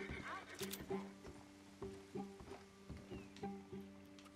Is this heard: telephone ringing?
no